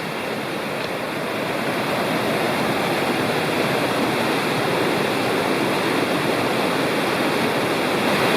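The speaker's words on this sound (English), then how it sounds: "Here's some video of Big Creek above Mouse Falls" Steady, full rush of Big Creek above Mouse Falls in the Great Smoky Mountains, constant and fairly loud with no breaks, like a fast stream tumbling over rocks.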